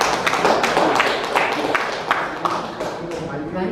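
Scattered hand claps from an audience welcoming an inventor's presentation of an electrostatic induction generator, uneven and fairly close, with voices talking over them.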